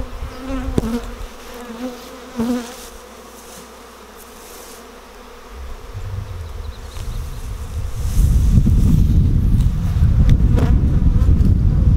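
A steady honeybee buzz hums outdoors at a hive, rising to a loud, close drone in the second half as bees swarm near the microphone, with wind noise underneath.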